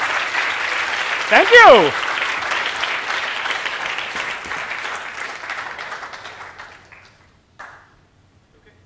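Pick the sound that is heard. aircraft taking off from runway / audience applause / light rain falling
audience applause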